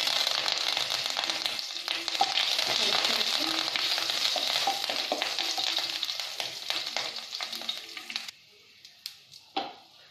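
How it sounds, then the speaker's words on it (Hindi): Mustard seeds, green chili and curry leaves crackle and fry in hot oil, a dense steady sizzle with occasional stirring scrapes that suddenly drops to a few faint pops near the end. "सरसों के दाने यहाँ पे अच्छे थोड़े से भुन गए हैं, तो इसमें हम हरा मिर्च और यहाँ पे लिया मैंने करी पत्ता, तो इसे भी हम इसमें डालेंगे।"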